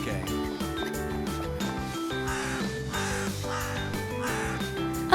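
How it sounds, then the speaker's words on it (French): A bird gives several crow-like caws at intervals, set against steady background music. "Oh, qu'est-ce que c'est? Un oiseau."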